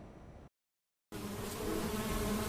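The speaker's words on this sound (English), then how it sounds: "the bees, buzzing back and forth and flying from a flower to another" Bees buzzing around flowers in an apiary setting, a dense steady hum that is cut off by a brief silence and then returns louder and fuller for the rest.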